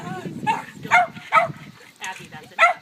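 Puppy barking in a home, a series of five or six sharp, high yaps in an uneven rhythm, close and fairly loud, with a person talking quietly between the barks.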